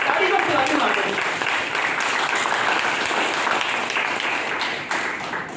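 A gathered audience claps for a person named Indigo, a steady run of applause lasting several seconds that stays fairly even before easing slightly, with some voices underneath.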